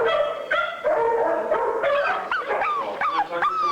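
Dogs at an animal rescue bark, yip and howl in a loud, close chorus, with overlapping high-pitched cries and whimpers.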